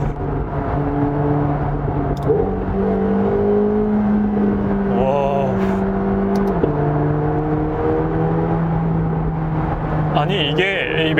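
A McLaren 750S coupe's engine drones loudly and steadily inside the car, its pitch stepping abruptly twice as the SSG sequential dual-clutch gearbox shifts, with a brief rising rev between.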